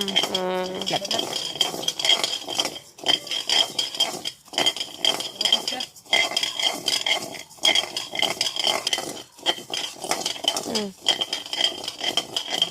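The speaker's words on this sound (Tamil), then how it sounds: "அரிசியும் நல்ல வடிவாக ஒரு பதத்துக்கு வறுபட்டு கொண்டிருக்குது" Spoon stirring rice as it dry-roasts in a pan for a homemade nutritional flour, repeated scraping and rattling strokes with grains clinking against the metal, close and fairly loud, with brief pauses between bursts.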